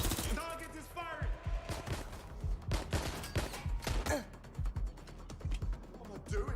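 Gunfire crackles in Watch Dogs Legion, irregular bursts of shots and mechanical clicks mixed with voices speaking over the action, fairly quiet overall.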